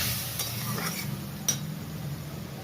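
Chopped tomatoes go into a frying pan with hot oil, with steady sizzling, soft stirring and a brief clink of utensil against the pan, close and without speech.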